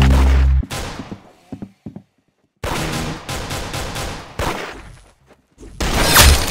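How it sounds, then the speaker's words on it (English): Loud bursts of video game gunfire crack out in rapid volleys, separated by short silent gaps, with a final dense burst at the end. "Very good shooting."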